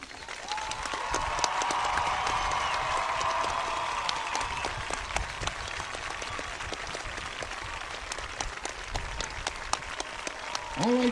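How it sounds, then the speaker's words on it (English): A crowd at a high school community event claps and cheers, a dense sustained applause that fills the space, with sharp individual claps and a brief tonal note early on. "Give them a big round of applause."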